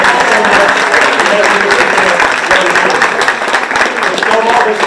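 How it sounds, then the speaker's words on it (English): Loud, continuous applause fills a large audience at the Mr Colonel 2022 event, a dense wash of clapping with voices talking and calling underneath. "Give them a big round of applause."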